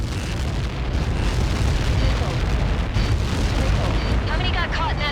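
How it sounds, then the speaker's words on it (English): Impact of Helios projectiles in the combat flight game Ace Combat 7 sets off a massive explosion: a loud, sustained, deep roaring rumble, with faint voices underneath. "How many got caught in that explosion?"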